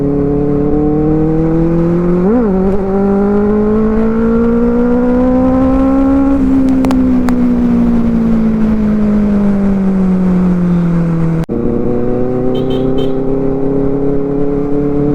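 Car engines rev and whine loudly throughout a street race, pitch climbing and falling with gear changes, a brief sharp rise early on and a strong acceleration sweep midway, close and continuous with no talk.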